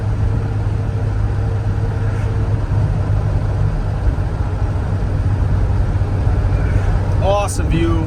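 A 1963 Jaguar E-Type Series 1 coupe cruising at about 50 mph with shifts near 2,500 RPM: a steady, smooth engine drone with road rumble from inside the car, and someone talks throughout.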